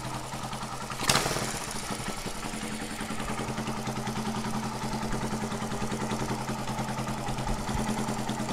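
A Kawasaki KZ200 chopper motorcycle engine runs steadily during a clutch test, its rhythmic mid-pitched putter continuous and fairly close, with a brief sharp clank near the start and no talk.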